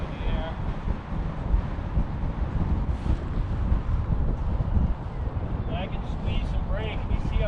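Strong, steady wind roars and buffets the microphone throughout paraglider kiting, with a low rumble and occasional voices faintly audible in the gusts.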